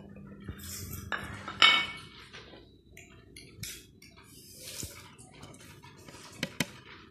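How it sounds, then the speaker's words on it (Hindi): A spoon stirs spice masala into yogurt in a bowl, mixed as a marinade for Lahori charga chicken. Soft, intermittent clinks and scrapes against the bowl come close up, with a few sharper taps and no talking. "अब हम इस सारे मसाले को दही में मिक्स कर देंगे।"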